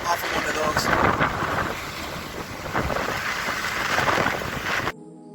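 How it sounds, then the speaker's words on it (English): Strong wind roars steadily over a fishing boat on a lake in Mexico, with heavy microphone buffeting and water noise throughout, then it cuts off abruptly near the end. "It's windy now."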